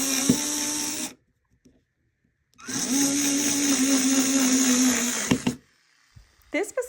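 A Fanntik cordless screwdriver drives a screw into an undrilled hardwood board, two loud whirring motor bursts separated by a pause, the second longer and ending with a clunk, with a few faint knocks after.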